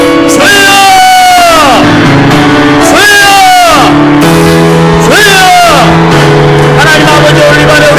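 A church congregation at an evening revival meeting cries out "Lord" together in prayer, loud massed voices rising in long swelling shouts that repeat several times, close and overwhelming.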